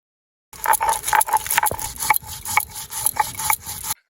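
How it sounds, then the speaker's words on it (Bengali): Repeated rough scraping and rubbing strokes of stone on stone as mustard seeds and dried and green chillies are ground on a grinding stone, steady back-and-forth rhythm, close and moderately loud, with no talking. "এবার আমি একসাথে সবগুলো বেটে নেবো"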